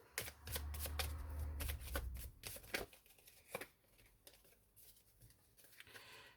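A 32-card deck is shuffled at a card-reading table in quick, close papery riffles and flutters for about three seconds, then settles into lighter, sparser taps and flicks.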